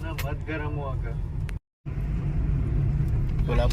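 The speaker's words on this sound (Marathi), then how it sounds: "रस्त्यावरती बऱ्यापैकी ट्रॅफिक आहे" Steady road traffic rumbles at a busy chowk marking the entrance to Kolhapur, a continuous low drone of passing vehicles close by, with someone talking over it and a brief cut to silence partway through.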